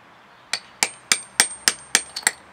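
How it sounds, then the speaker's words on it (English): A hammer and chisel strike a geode in eight sharp metallic taps, evenly paced about every third of a second, close and loud, with two quicker hits at the end and no talking. "So you're going to grab your hammer and chisel."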